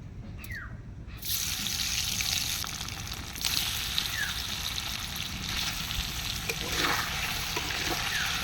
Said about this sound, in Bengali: এখন হচ্ছে পনির ভাজা।